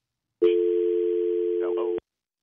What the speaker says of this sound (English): I just heard like a dial tone.